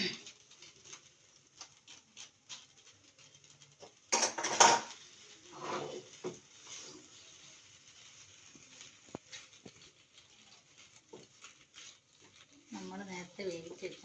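Cooked macaroni tipped into a pan and stirred, with clattering metal-on-pan scrapes and a brief loud clash, softer scraping following, and a person talking over parts of it.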